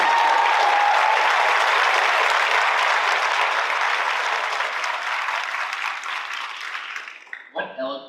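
Strong applause in a high school auditorium for children who spoke at a school district open forum, a sustained loud crowd clapping that fades out near the end before a brief bit of other sound.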